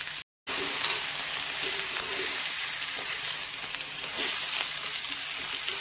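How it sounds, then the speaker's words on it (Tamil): Onion, tomato and okra sauté in hot oil for an okra kuzhambu, giving a steady, close, loud sizzle with occasional soft stirring scrapes and a brief dropout near the start. "இந்த எண்ணெயிலேயே நம்ம கொஞ்ச நேரம் வதக்கணும்."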